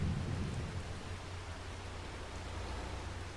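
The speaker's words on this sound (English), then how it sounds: "I do like when it rains in the game." Steady rain hisses continuously while a deep low rumble of thunder rolls underneath, fairly quiet and even throughout, in the video game Farming Simulator 22.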